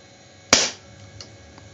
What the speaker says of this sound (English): Let's shoot first with the old board.